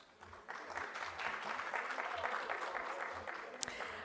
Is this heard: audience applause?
yes